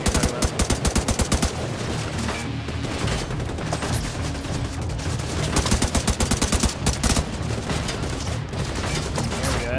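Suppressive gunfire from the video game The Division 2 runs almost without a break: dense rapid bursts and overlapping automatic fire, loud and close, with no speech over it.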